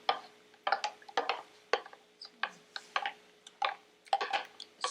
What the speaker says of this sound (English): So I'm just going to keep stirring this and let it cool off